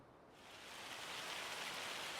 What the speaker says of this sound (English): Oh, that sounds like hail.